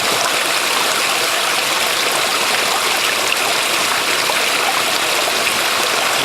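Water rushes and gurgles steadily at a ram pump in a creek as too much air is drawn in, a loud, continuous broadband wash with no pauses.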